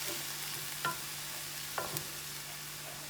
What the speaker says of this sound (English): I'm going to stir those up a little bit.